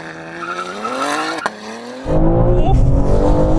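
BMW M3 launching from a standstill in a drag race against a Ferrari: an engine revs up with rising pitch, then a loud surge of acceleration and roar takes over near the microphone.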